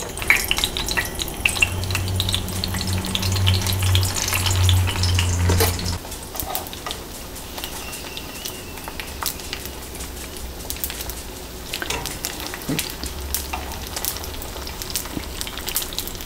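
Hand pies laid seam side down in a pan of hot canola oil set up a steady, busy sizzle that fades to a quieter crackle after a few seconds, with occasional soft clinks of a utensil.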